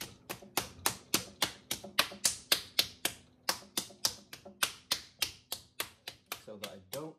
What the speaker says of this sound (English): I'm gonna bang this piece of clay down